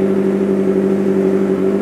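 A Kawasaki ZX25R fitted with an aftermarket exhaust holds a steady, loud, buzzy engine drone at near range, its pitch staying even throughout without talk.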